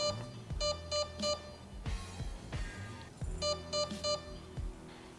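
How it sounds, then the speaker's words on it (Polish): Electronic beeps from a tester unit checked by shorting its connectors with a small pick or tweezers before fitting an ASCU trigger system, sounding as repeated short tonal bleeps in two bursts amid clicks and handling noise. "zwieramy ze sobą konektory, po którym powinien nastąpić sygnał dźwiękowy"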